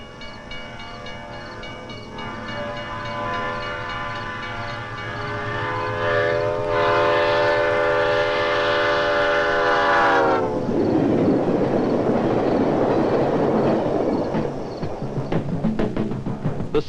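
A train horn blares in long sustained chords at a railroad crossing, then the train rumbles past close by with rattling, clattering wheels on the track.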